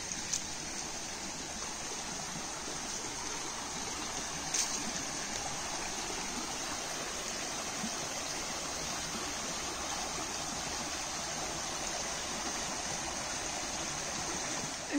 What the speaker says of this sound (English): Look, two streams at once.